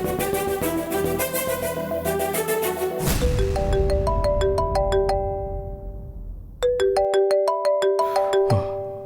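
A mobile phone rings with an incoming call, playing a bright, repeating electronic melody that is loud and close. It pauses briefly and then starts again, with no voices.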